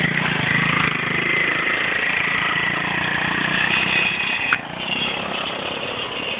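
Two dirt bike engines run steadily for the whole stretch, a loud, continuous mid-pitched drone with no letup and no voices over it.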